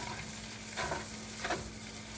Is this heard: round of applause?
no